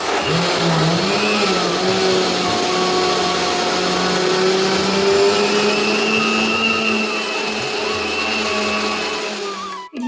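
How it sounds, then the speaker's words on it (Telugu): A mixer grinder whirs steadily and loudly for about ten seconds, a constant high-pitched motor drone that cuts off abruptly at the end. "ఎలానో మిక్సీ పెట్టేసాం కదండి"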